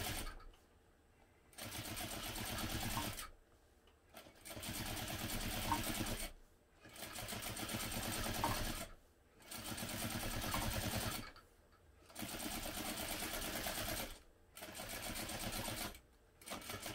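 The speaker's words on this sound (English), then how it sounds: "I'm just going to stitch right down the folded side as well, also using an 1/8 inch seam allowance." A sewing machine stitches fabric along a folded edge with a 1/8 inch seam allowance while sewing a pattern garment; close, steady bursts of stitching about two seconds long repeat six times, separated by brief quiet pauses, with no talking.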